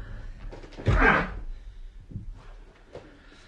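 A stuck front door takes a heavy shoulder blow, giving one loud thudding impact about a second in, followed by quieter knocks and rattles against a tense, hushed background.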